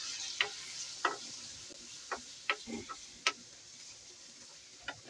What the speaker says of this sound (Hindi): इसको मैं फ्राई करूंगा